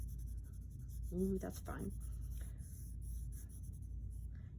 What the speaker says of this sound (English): So I'm just going to start with a 6B. I'm going to use the side of the pencil.